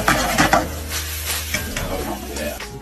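Noodles tossed into a hot pan with charred scallions and stir-fry sauce, a steady sizzle with scraping and clattering of utensils against the pan, close and fairly loud.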